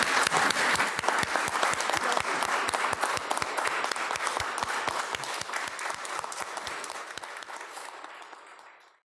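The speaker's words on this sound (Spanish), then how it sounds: "despedimos a los compañeros con un fuerte aplauso" A podcast's live audience gives a loud, sustained round of applause, dense clapping lasting about nine seconds before fading out and ending abruptly.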